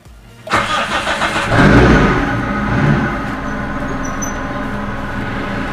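A car engine, started by push button with an RFID start-stop system, cranks and catches, revving briefly before settling into a steady idle rumble close by.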